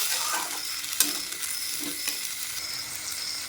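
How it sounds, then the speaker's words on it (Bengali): Ginger, cumin and garlic paste sautéing in a pan for a curd katla fish curry, a steady close sizzle with a few soft stirring scrapes and no voices. "আদা জিরে রসুন বাটা দিয়ে ভালো করে কিন্তু কষিয়ে নেবো"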